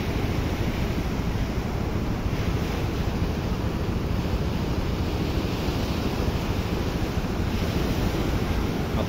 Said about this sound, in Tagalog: Napakalakas ng agos.